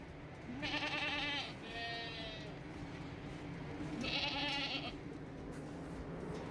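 Call goats bleat in a few drawn-out, wavering calls, close by, with quiet farmyard background noise between them, in a barn during a clean-out.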